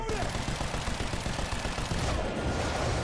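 Dense, loud gunfire from a firefight in the video game Quantum Break, a continuous rattle of shots with voices mixed in.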